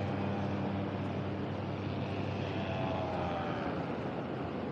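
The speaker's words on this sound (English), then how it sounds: "Can you get the paramotors right over top of you?" Paramotors fly overhead on a calm, windless day during a fishing trip, a steady distant propeller-engine drone with a faint rising whine, continuous and moderately loud, no talk.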